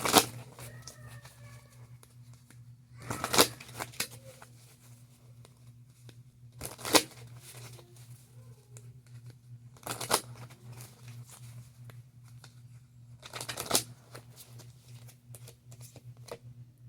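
A deck of entrepreneur oracle cards shuffled close by in four quick riffling bursts, roughly every three seconds, over a low steady hum, with quiet handling sounds between.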